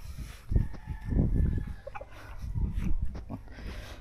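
Several chickens clucking close by in short irregular bursts, with some low rustling and scuffling mixed in.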